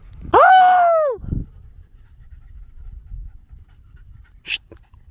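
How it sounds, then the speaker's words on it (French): A dog gives a loud, drawn-out whining whimper close by, then falls quiet amid soft breathing-like panting, with a brief sharp noise near the end. "chut, chut, le chien"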